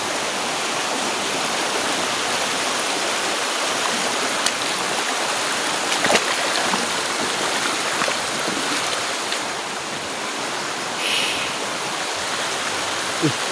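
A stream flows in a steady, loud, continuous rush of water, close by, with no talk over it.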